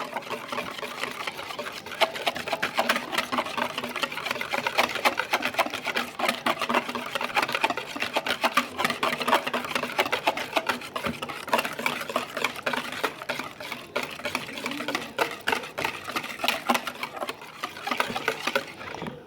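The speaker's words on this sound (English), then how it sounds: "stir in the almond milk, or in my case, the coconut milk, and whisk it again" A whisk beats coconut milk into vegan double chocolate muffin batter in a bowl, making a fast, steady rhythmic clatter that continues throughout, close and fairly loud, with no talking.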